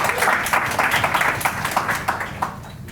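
A conference audience at a healthcare DEI panel breaks into a round of applause, with brisk, dense clapping filling the room for a few seconds and staying fairly steady throughout.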